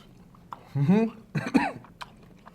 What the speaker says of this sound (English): Little cough.